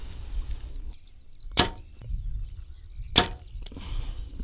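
Two arrows released from a bow on a windy long-range shooting field, each a sharp, loud snap about a second and a half apart over steady low wind rumble.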